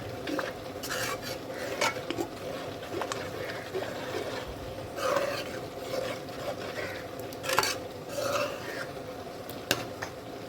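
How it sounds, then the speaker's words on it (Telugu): A spoon scrapes and stirs rava kesari cooking in ghee in a pan, a steady close scraping and swishing with faint sizzling underneath and a few sharper clinks against the pan. "ఒక 2-3 టేబుల్ స్పూన్స్ నెయ్యి వేసుకొని కలుపుకుంటూ ఉండండి ఫ్రెండ్స్"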